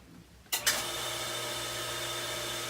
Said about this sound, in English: excuse me for the water pump. It's been running on and off.